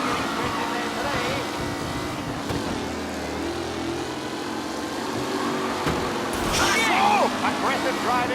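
Race cars in Mafia Definitive Edition roar past in a continuous, dense engine drone. Collision noise joins in near the end, and a commentator talks over the racing throughout.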